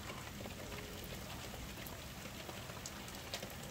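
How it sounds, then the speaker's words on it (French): Steady broadband hiss of heavy rain falling during a wind and rain storm, with scattered drop hits on surfaces, continuous and fairly loud with no talking. "Il pleut, il mouille."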